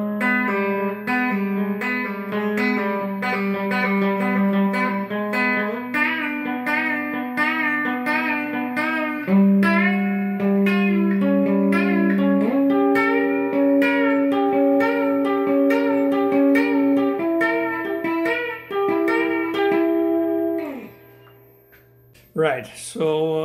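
Electric guitar playing the melody of a song in a lesson, a steady run of clear sustained notes with bends and slides lasting about twenty seconds, ending in a brief quiet gap and a final pluck.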